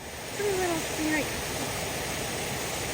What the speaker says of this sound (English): waterfall by someone's home.